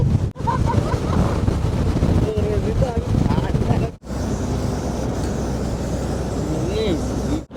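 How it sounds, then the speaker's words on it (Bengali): Strong cold morning wind blasts across a moving desert safari jeep in the Thar Desert near Jaisalmer, a loud continuous roaring rush with the vehicle rumbling underneath, broken by two brief dropouts; voices talk faintly within it. "সকালে গাড়িতে প্রচন্ড হাওয়া লাগছে, ঠান্ডা হাওয়া"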